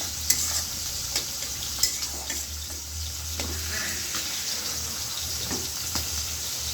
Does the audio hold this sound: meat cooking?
yes